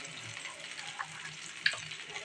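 Chicken fries in a pan with onions, chillies, green chillies and ginger paste for chicken curry, a soft continuous sizzle with a couple of small crackles, close and fairly quiet.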